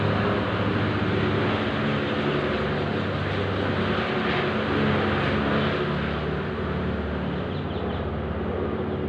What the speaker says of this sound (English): Patrol plane in the distance there,